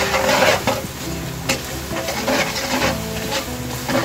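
Chicken broth cubes are crushed and stirred in a pan with chicken and pineapple, making a loud, continuous scraping sizzle with rubbing strokes close up. No talking.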